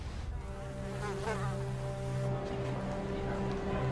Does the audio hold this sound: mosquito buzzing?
yes